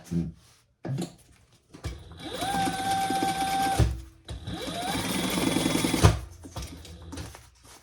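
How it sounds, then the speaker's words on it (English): A sewing machine stitches the sides of a fabric bag in two long, steady whirring runs of a few seconds each, close and fairly loud, separated by brief pauses and handling clicks. "we're going to turn it right side up, pull it over, and stitch the sides."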